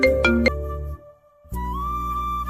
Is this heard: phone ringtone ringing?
yes